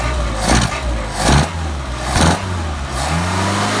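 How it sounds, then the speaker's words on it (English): Engine on a car with a freshly rebuilt Solex carburetor revs up three times in quick succession, each blip rising sharply then falling back to a steady idle between, close and clear. "Switch over to high scale and rev it up."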